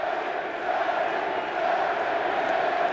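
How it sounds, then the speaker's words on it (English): At Wrigley Field, a baseball crowd chants for Sammy Sosa, a loud, dense and continuous roar of massed voices that surges slightly in rhythm, with no commentary over it. "the crowd already chanting for Sosa before ball 4 comes to Patterson here"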